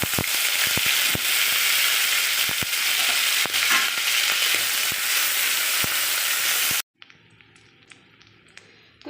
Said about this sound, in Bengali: তো দেখো ইলিশ মাছের তেলটা আমার ভাজা হয়ে গেছে, কতটা তেল বেরিয়েছে দেখো।